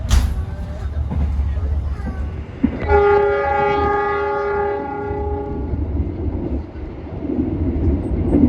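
The Malabar passenger train sounds a long, loud horn blast with steady tones while departing Blitar station, preceded and followed by rolling train rumble and clatter.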